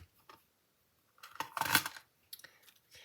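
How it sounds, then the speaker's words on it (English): Scissors snip through paper card to cut out pieces for a Halloween card, in short, close crisp bursts with quiet gaps between them. "I'm going to cut that out now"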